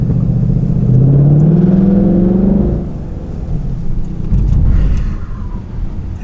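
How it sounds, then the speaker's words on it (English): Muscle car with a custom Berlo exhaust, a loud deep engine rumble rising in pitch as it accelerates, then easing off and swelling again at close range. "So this has a custom exhaust, right? Yes, it's got a Berlo exhaust."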